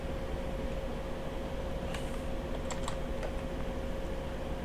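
Keys tap on a computer keyboard as a command is typed, a short burst of quick clicks in the middle over a steady fan hum, fairly faint and close.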